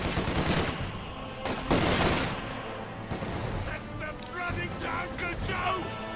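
MG42 machine gun fire in Company of Heroes 2 rattles in repeated bursts amid ongoing battle noise and distant booms, with a voice talking over the fighting.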